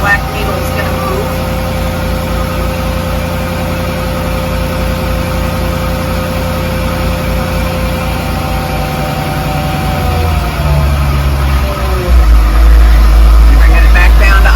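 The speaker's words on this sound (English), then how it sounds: "revving the engine to see if this black needle is going to move" A boat engine runs steady and loud during a fuel filter change, held at raised revs with a droning hum, then drops in pitch near the end as it eases back toward idle.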